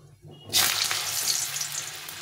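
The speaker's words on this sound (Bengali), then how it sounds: "তেলটা গরম হয়ে গেছে, আমি আলুটা ভেজে নেব।" Potatoes dropped into hot oil erupt into a sudden loud sizzle that keeps crackling and hissing steadily, close up, after a quiet moment.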